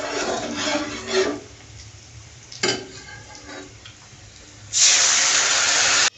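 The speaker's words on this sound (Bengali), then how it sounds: "চলো ডালটা সম্বারা দিয়ে নিই।" Dal being tempered with fried onion, garlic and dry chilli: quiet stirring and clinks, then a loud, steady hiss of sizzling oil bursts out and holds for the last second or so.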